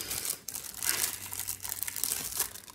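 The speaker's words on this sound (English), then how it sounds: "Wrapping my diamond painting back up here." Crinkly plastic packaging from an inexpensive diamond painting kit is being folded and wrapped back up, giving a close, continuous run of rustling and crackling with brief pauses.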